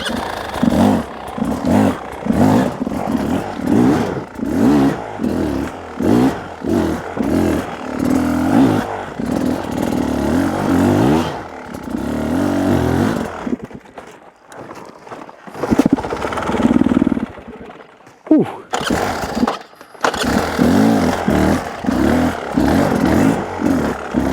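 An enduro dirt bike engine revs in a rapid, pulsing stream of throttle bursts, drops to near silence twice, then roars back, loud and close.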